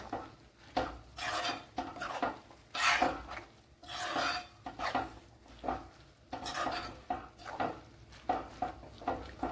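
Soaked soya chunks being stirred in a pan while cooking soya chunks varuval: repeated rhythmic scraping and clinking of a spoon against the metal, roughly one stroke every second, close and clear.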